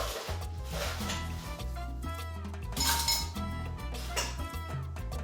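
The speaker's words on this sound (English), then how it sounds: "I'm going to put some fresh ice in the blender." Clinking and rattling of fresh ice tumbling into a blender, a busy run of knocks and chinks close by, with no talking.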